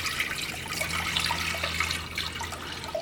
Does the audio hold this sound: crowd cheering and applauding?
no